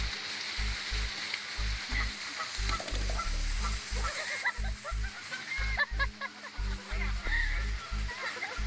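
A goose honks repeatedly in short bursts during a confrontation with a gorilla, the calls close and loud over a hissing background.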